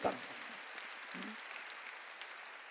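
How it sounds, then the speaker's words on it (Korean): Church congregation clapping at a New Year's Eve service, a sustained dense wash of applause filling the hall, moderately loud and steady with a brief voice at the start. "박수."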